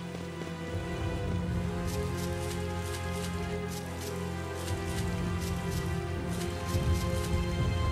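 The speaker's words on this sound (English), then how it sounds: "Starting to rain." Rain falls in Tales of Xillia: a steady wash of rain with occasional louder drops, continuous and moderately loud beneath a bed of background music, with no talk.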